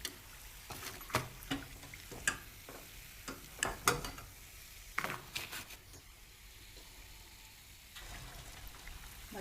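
Samosas deep-frying in hot oil, a soft continuous sizzle with bubbling, broken by sharp clattering stirs and scrapes as pieces are turned and lifted out.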